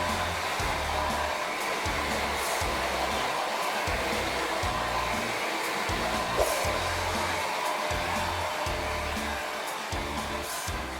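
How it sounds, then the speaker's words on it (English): A hair dryer blows on natural hair in one loud, steady, close roar with a slight pulsing in its low hum, lasting throughout and free of speech. "I've blow dried my hair"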